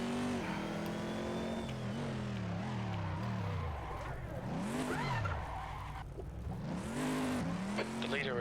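A Corvette C7.R race car roars through Laguna Seca in the Assetto Corsa racing game, the engine revving up and down through gear changes with tyre squeal and braking into corners, loud and continuous while a voice talks over it.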